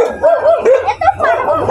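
A dog barks and yips repeatedly in quick, rising bursts, fairly close and loud, with a few whimpering tones between the barks, heard outdoors.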